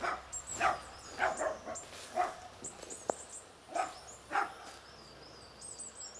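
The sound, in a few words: small dog barking near a house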